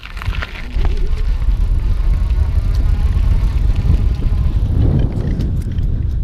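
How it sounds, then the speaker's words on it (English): Riding a Surface 604 Rook electric bike on throttle across grass in the evening, a constant loud rumble of wind and tyres with a faint motor whine, continuous and close without talk. "maybe I'm gonna put it in level 2 and just do the throttle"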